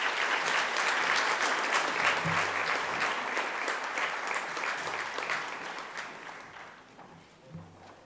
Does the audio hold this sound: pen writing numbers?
no